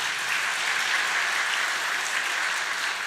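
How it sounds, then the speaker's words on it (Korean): A church congregation applauds the choir after a Sunday Christmas-season service, a steady, dense clapping from many hands that holds evenly throughout. "우리 한번 성가대 위해서 한번 박수 한번 부탁할까요?"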